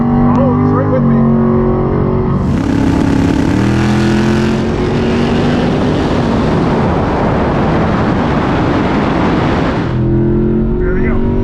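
A drag race launch between a Tesla Plaid and a Chevrolet Vega with a 454 crate motor, a loud roaring engine surging for several seconds and then easing off, heard close under someone talking excitedly.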